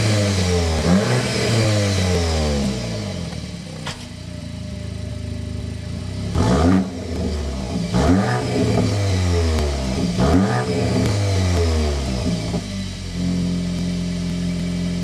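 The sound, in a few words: car engine revving, exhaust note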